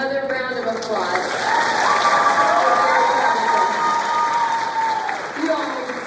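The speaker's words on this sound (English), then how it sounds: "Another round of applause." An audience at a high school spring concert applauds and cheers, with clapping swelling to a loud, sustained peak and scattered whoops and voices rising above it before it tapers off.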